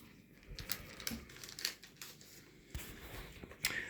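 A paper sticker packet of Italy national team football stickers is torn open by hand, close and crisp, with several sharp ripping and crinkling bursts in an uneven rhythm and no talking.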